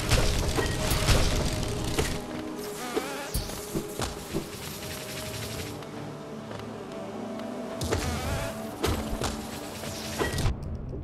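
Buzzing of a bee enemy in the video game Hollow Knight, a dense continuous drone mixed with game music and sharp combat hits, loud and steady throughout.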